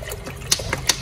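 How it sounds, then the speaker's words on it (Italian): Water running and splashing into a container for cleaning in a home, a steady watery wash with a few brighter splashy bursts, close and moderately loud, no talking. "Comunque vado a metterci l'acqua."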